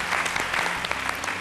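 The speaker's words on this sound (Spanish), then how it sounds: "ese aplauso fuerte, grande, grande de sus compañeros" Loud, steady applause from teammates in a TV quiz show studio, a dense clapping wash filling the short moment with no talk over it.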